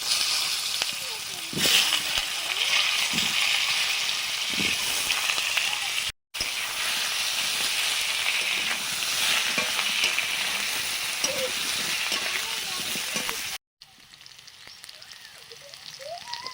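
Potato and papaya pieces fry in a pan with a strong continuous crackling sizzle, stirred now and then, cut by two brief silences before a quieter, thinner hiss at the end; a voice speaks faintly over it.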